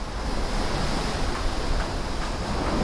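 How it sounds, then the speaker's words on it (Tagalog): Sea waves crash on the shore beside an abandoned resort in Cavite at night: a continuous, loud wash of surf mixed with wind noise, with no talk. "narinig yung mga hampas ng dagat."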